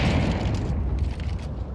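Flashbang grenade going off in a Counter-Strike match during an ESL Pro League playoff, a dense loud rumbling boom with crackling texture sustained throughout.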